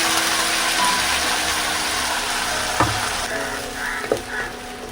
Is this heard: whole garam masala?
yes